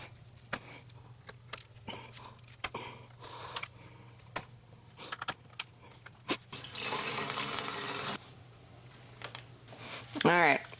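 Tap water runs over an unpolished amethyst rock from a rock advent calendar, a steady splashing rush for about a second among small clicks and knocks, with a voice briefly near the end.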